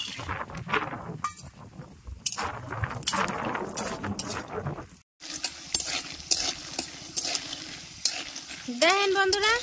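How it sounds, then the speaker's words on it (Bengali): Peanuts fry in hot white oil in a wok, a steady sizzle with a spoon stirring and clinking against the metal, broken by a brief pause and a squeaky sound near the end. "এখন কটা বাদাম দিয়ে সুন্দর লাল লাল করে ভাজি নেব।"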